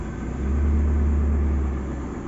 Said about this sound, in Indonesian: Kita tahan gasnya lalu kita starter.